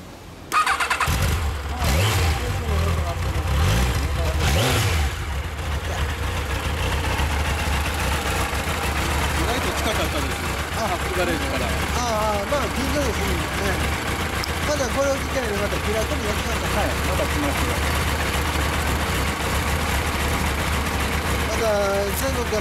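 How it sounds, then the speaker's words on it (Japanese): A 2002 Yamaha XJR1300 (RP03J) motorcycle engine cranks and fires up, then settles into a loud, steady idle that runs for about twenty seconds. People chat nearby over the engine. "いやごめん、エンジン音消してもらえますか。"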